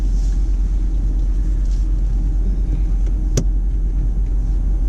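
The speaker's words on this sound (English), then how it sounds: "bring the car out of this space" A car pulling forward out of a parking bay during a driving lesson, its engine a steady low rumble close by, with one brief sharp knock partway through.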